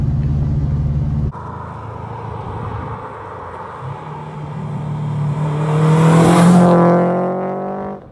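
A turbocharged Subaru WRX wagon's engine roars under load at wide-open throttle, briefly dropping at a gear change, then revs climb and rise in pitch as it accelerates hard.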